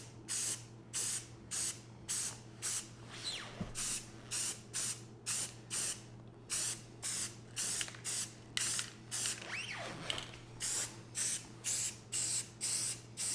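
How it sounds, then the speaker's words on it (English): Repeated short bursts of spray paint as Rust-Oleum primer is sprayed onto a Warn 8274 winch drum, about twenty evenly spaced hissing puffs over a steady low hum, close and fairly loud. "I got the first coat of primer on the winch drum. Like I said, nothing special, just good old Rust-Oleum primer."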